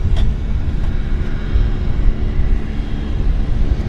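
A WestJet airliner bound for Edmonton departs Vancouver Airport as a loud, continuous low jet-engine roar, steady and fairly close, with no voices.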